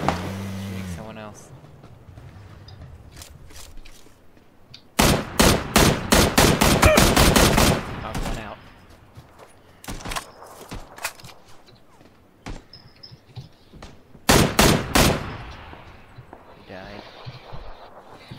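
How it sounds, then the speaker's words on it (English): Gunfire in the video game PUBG, rapid automatic bursts of shots in two loud clusters with scattered single shots between, while players talk over quieter stretches. "I'm getting shot from somewhere."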